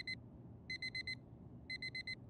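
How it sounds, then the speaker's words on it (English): Alarm clock going off in the video game Fragments of Him: three bursts of rapid, bright electronic beeps, each a cluster of about four pulses, repeating at a steady rhythm over a low background hum. "Every day that alarm goes off."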